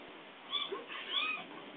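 A child imitates a cat with a soft, drawn-out vocal meow, heard faintly through a narrow, tinny recording.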